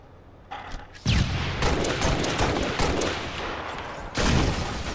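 Rapid bursts of video game gunfire from a first-person shooter, loud and continuous, with dense overlapping shots and a heavier volley near the end.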